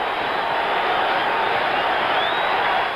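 A stadium crowd at a 1977 Cowboys–49ers football game in San Francisco roars steadily, a broad continuous wash of cheering and noise lasting the whole stretch with no distinct breaks.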